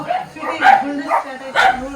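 Several barks from a household dog come in bursts across the moment, mixed with and partly under people talking nearby.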